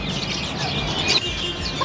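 Cochin bantam chickens clucking in a busy farmyard, with steady crowd-like background noise and a few brighter bird calls near the middle.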